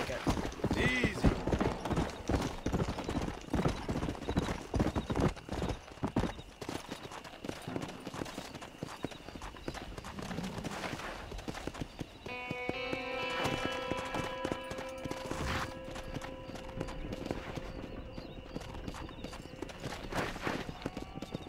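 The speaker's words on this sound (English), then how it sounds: "I'm gonna just ride my horse over there." Horse hooves clip-clop at a riding pace in the Red Dead Redemption video game, a rapid run of hoof strikes in the first half. Someone talks over it, and clanking mechanical tones and what may be gunfire follow.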